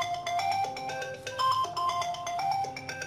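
A mobile phone plays a short melodic notification tune for an incoming text message, a bright sequence of electronic beeps stepping up and down in pitch and repeating over a few seconds, heard alone and clearly.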